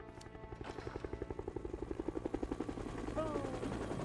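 A helicopter in the zombie survival game State of Decay thuds with steady, rapid rotor beats that build up and hold, close and loud, while a tonal sweep rises near the end.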